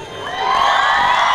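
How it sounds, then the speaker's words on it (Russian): A concert audience at a show in Chundzha applauds and cheers, a dense, steady wash of clapping and voices that swells slightly and stays loud throughout. "Ваши аплодисменты."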